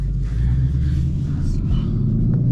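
Deep, steady low rumble from a Ford Mustang Mach 1 V8 on the move, heard from the cabin, with a brief dip in pitch partway through.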